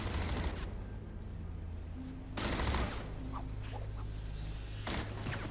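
Gunfire rings out in Batman: Arkham City as enemies shoot at a character. Three sharp bursts of rapid shots come at the start, middle and end, with quieter game ambience in between.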